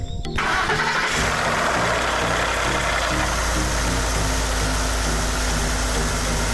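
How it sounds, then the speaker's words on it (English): A Ford Lariat pickup truck cranks and fires up, then settles into a loud, steady, rumbling idle with a constant low throb close by, continuing without a break. "It sounds like a truck that's only has 60-some thousand miles on it is what it sounds like."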